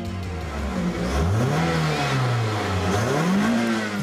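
Toyota Celica 1800 cc multi-valve engine revving up and down in two rising and falling sweeps, a loud, somewhat coarse mechanical note close by with no talking.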